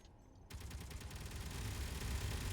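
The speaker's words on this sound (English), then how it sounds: "I'm gonna shoot our ship from the inside out with the safe zone allowing shooting." Ship guns in Space Engineers fire a rapid, continuous burst of shots from inside a safe zone, starting abruptly and growing louder and denser, heard alone without talk.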